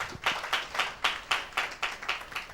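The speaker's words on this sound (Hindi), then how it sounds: "सिस्टर के लिए ताली बजाएंगे भाई।" Rhythmic clapping from a church congregation, about nine or ten evenly spaced beats a little under half a second apart, fairly quiet and unaccompanied by talk.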